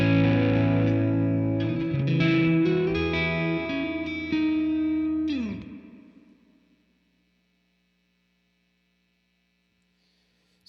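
An electric guitar rings out through a VOX AC10 amplifier in a few strummed and picked phrases, warm and slightly driven. It then fades into a low steady mains hum, alone, with a brief click at the end.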